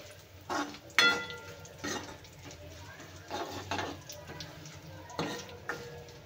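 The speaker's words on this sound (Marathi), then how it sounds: "तर छानपैकी आपला तडका झालेला आहे रेडी" Dal tadka tempering with plenty of curry leaves sizzles softly in a pan while a spoon stirs and scrapes the metal in irregular bursts, close and fairly quiet.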